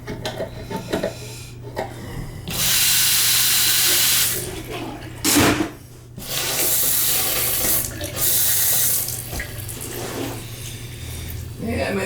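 A faucet fitted with an aerator runs in loud hissing bursts, turned on and off several times, with a low steady hum underneath and a voice talking at a few points.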